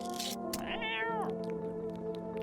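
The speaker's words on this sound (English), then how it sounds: "Wait, I can feed the cat some canned food." A video-game cat meows once it has been fed canned food: a clear, drawn-out meow in the middle, rising and then falling, set over a steady hum of game background tones.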